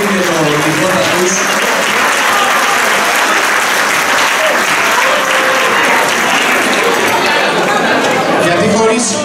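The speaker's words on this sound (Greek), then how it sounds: "Ένα πολύ μεγάλο χειροκρότημα στα παιδιά" A crowd at a traditional Greek folk dance event applauds the dancing children with loud, steady clapping that lasts throughout, mixed with cheers and murmuring chatter.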